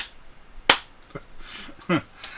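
A few sharp hand claps, one loud crisp clap followed by softer scattered ones, close and dry amid a person speaking.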